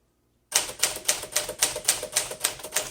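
Keys clacking on a 1953 Smith Corona Sterling 5A manual typewriter, a steady run of about ten crisp, evenly spaced strikes, close and loud, with no voices.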